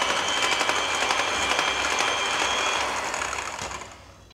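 Electric mixer beating 100 grams of butter at low speed for a bakery-style vanilla fruit cake: a loud, steady whirring hum that runs evenly and then fades away at the end.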